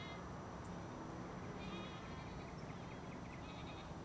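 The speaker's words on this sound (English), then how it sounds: "we've got a whole bunch of goats up here" A large herd of goats, brought to graze weeds on open hillside land, bleats at a distance in scattered, thin calls over a steady outdoor background hiss.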